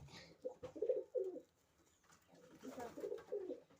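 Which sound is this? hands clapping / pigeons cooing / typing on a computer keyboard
pigeons cooing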